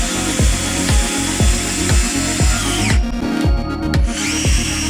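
An Ozito 18V brushless cordless drill drives a 14 gauge timber screw, giving a loud, steady whine with a rapid series of regular knocking pulses as the screw bites into the wood.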